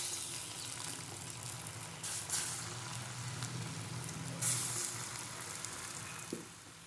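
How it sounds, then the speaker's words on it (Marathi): Vada batter balls fry in hot oil for rasam vada, giving a steady close sizzle and crackle with a couple of louder bursts of bubbling partway through. "तेल गरम झालेलं आहे. आता आपण वडे तयार करू."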